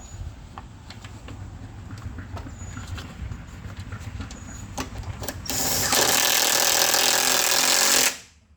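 A ratchet drives a 10 mm bolt holding the grille to the body of a 2012 Jeep Grand Cherokee, giving rapid repeated clicking, then a louder steady whirring burst that stops abruptly.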